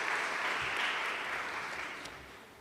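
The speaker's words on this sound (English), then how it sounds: "So one more big clap." Audience applause at a public health symposium, a steady wash of many hands clapping that fades slightly toward the end, with no talk over it.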